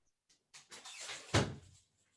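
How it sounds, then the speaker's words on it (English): A door is opened to let a dog in, heard as a few soft creaks and shuffles building to one louder knock or thump near the end, close by, with no talking. "I just opened the door for my dog here real quick"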